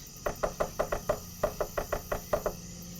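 Fast knocking on a door in the video game NORCO: about a dozen quick, crisp raps in uneven bursts, close and clear over a faint steady hum, with no talking.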